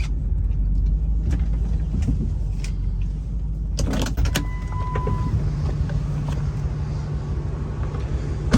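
A car pulls up and stops in a crime video game, its engine droning low and steady before the vehicle comes to rest. A door clunks partway through, and a faint electric whir follows.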